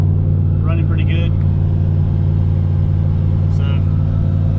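A turbocharged LS-swapped Mazda RX-7 driving on the road gives a loud, steady engine drone with deep rumble that holds throughout, with a couple of brief higher chirps over it.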